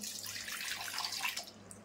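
Water is poured into rice-flour batter in a continuous splashing stream, close and moderately loud, fading slightly near the end; no voices.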